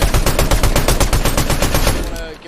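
Rapid automatic gunfire from a Fortnite match, a dense loud burst of evenly spaced shots lasting nearly the whole moment before trailing off.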